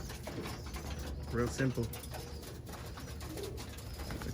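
Birmingham Roller pigeons coo softly at a loft trap, a short throaty burst of cooing partly masked by steady background noise, with someone speaking briefly nearby.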